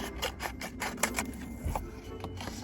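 Scissors or a blade slowly trimming DIY window cover material for a small, oddly shaped van window, giving a series of soft, close rasping cuts in an otherwise quiet space.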